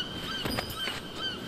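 Seagulls call along the coast in the fantasy game Dragon's Dogma, with several short honking cries in quick succession over a soft ambient wash.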